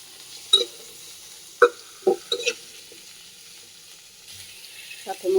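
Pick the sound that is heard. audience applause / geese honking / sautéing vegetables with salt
sautéing vegetables with salt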